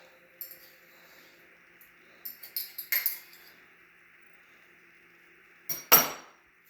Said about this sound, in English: So in here now we add the balance of the lemon, the peppers, and the garlic paste.